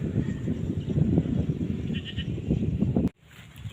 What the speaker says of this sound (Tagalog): Dalawang kambing na naman.